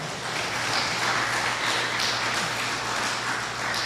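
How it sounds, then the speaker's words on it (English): Applause from an audience at an outdoor political pre-budget meeting in Arima, a steady wash of many clapping hands that holds at an even level for the whole stretch, with no voices over it. "Let's give a round of applause to our leader."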